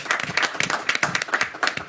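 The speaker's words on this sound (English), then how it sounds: "but a round of applause." Brief, moderately loud applause from a community gathering welcoming a new recreation director, uneven clusters of claps over a couple of seconds.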